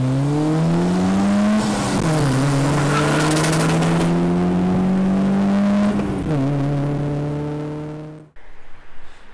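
Volkswagen Mk2 with a 1.8T engine driving on the road, loud and close, revving up through several gears with rising pitch and shifts before the engine drops off abruptly near the end.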